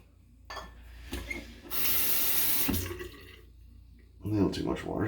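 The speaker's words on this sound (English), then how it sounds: "A little too much water." Water runs from a tap into a sink during a shave, switching on in loud bursts of rushing hiss between quieter stretches, close by, with a voice talking around it.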